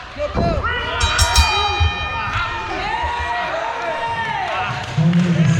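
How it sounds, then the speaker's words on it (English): At a pro wrestling show the ring bell clangs a few times in quick succession, ringing over crowd noise and the commentator talking. "Ring the bell, that's it."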